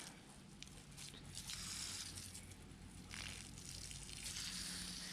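A Valwix pool cover pump pushes water out through its hose in a steady, hissing gush that runs close and unbroken, with a low pump hum beneath and no talking.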